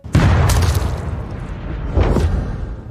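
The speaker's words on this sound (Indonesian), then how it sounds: "tiba-tiba saja bapaknya tertembak oleh sebuah peluru" A gunshot in a film comes as two loud, close booming bursts about two seconds apart, each with a brief whooshing tail, and no talk.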